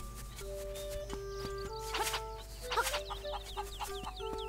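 A chicken clucks repeatedly in the village of the video game The Legend of Zelda: Link's Awakening on Switch, its short chirpy calls layered over tonal background music and chiming game effects.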